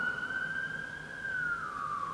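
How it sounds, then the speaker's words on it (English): An ambulance siren passes by, a loud, sustained wailing tone that drops in pitch toward the end as it moves away, with no talking over it. "oh sorry about that nice ambulance there"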